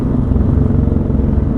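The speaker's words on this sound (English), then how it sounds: "the truck is just leaving" Truck pulling away, a loud, close, low rumble of its engine that holds steady through the short stretch with no talk.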